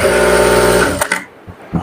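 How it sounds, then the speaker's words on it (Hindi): A sewing machine stitches a patiala salwar in a loud, close whirring run of about a second, then stops and leaves a few quiet handling sounds. "अब यहां से बराबर इस तरह से रख के आपको सिलाई लगा लेना है।"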